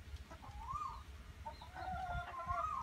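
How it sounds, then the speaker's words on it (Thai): Laying hens cluck and murmur inside a small free-range henhouse on a demonstration farm, the calls faint and somewhat distant over a low, steady background rumble. "โรงเรือนไก่ไข่"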